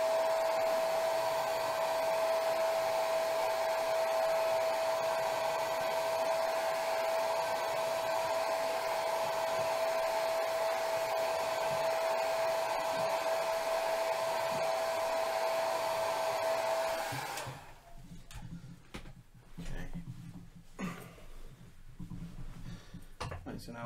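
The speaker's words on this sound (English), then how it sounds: "Actually, I think my hairdryer might be plugged in." A hair dryer blows with a loud steady whine close by, then switches off, leaving quiet room sounds and brief talk.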